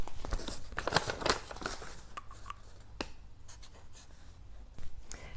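A blue pen writing on a small slip of paper, close and quiet: quick scratchy strokes that come in bursts at first, then sparser taps and short scribbles, with no talk.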